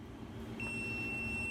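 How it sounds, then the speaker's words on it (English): A steady high-pitched oven timer beep for baked resurrection buns sounds partway through, ringing on continuously over a low kitchen background hum. "there goes our timer for our resurrection buns"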